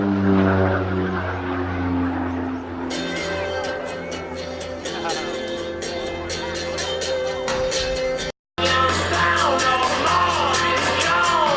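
An OV-10 Bronco twin-propeller aircraft drones steadily with a throbbing engine tone, joined partway through by a burst of louder rhythmic propeller noise, with a brief cut near the end and no talk.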